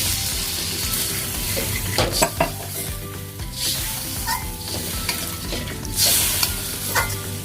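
Water poured into a pan of frying spices and egg for chana dal, giving a steady loud sizzle with stirring scrapes and clinks throughout, no talking.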